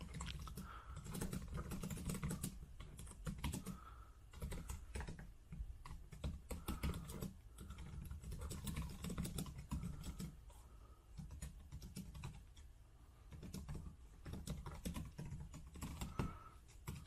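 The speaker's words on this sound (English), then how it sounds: "So we can go right in here and start typing." Steady typing on an IVSO Bluetooth keyboard case for a 2018 iPad Pro 12.9, soft rapid key clicks in continuous bursts with brief pauses, close and fairly quiet.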